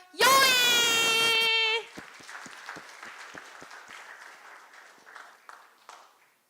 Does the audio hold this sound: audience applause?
yes